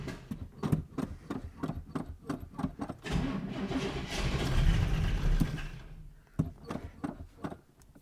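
A 1937 Buick street rod engine that is slow to start cranks in rapid, rhythmic starter pulses, briefly catches in a rough, louder burst, then cranks again, heard close and alone.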